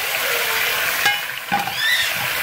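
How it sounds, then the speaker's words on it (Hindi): Chicken frying in oil already used for onions, garlic and ginger for degi qorma gives a close, steady sizzle with a couple of sharper spatters and stirring scrapes. "अब मैं उसी में चिकन फ्राई करूँगी।"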